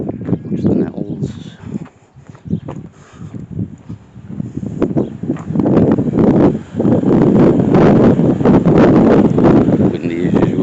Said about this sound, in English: Windy as usual, Wasdale classic.